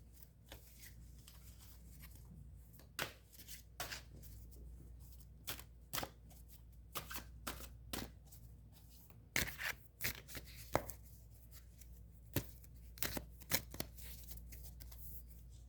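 Rider-Waite tarot cards being shuffled by hand, soft irregular riffles and slaps at close range, quiet and intermittent over a low steady room hum, with no talking.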